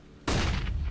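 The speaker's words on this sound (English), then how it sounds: "Throwing flashbang." A flashbang grenade goes off in VRChat: a single abrupt, loud broadband bang after a brief quiet moment, followed by a short ringing, rumbling tail.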